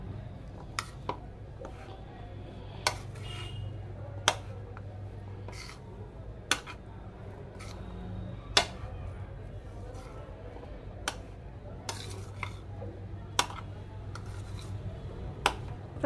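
Chole (chickpeas) being stirred in a pan at home: sparse, sharp metallic clicks and taps of a spoon against the pan at irregular intervals, over a low steady hum.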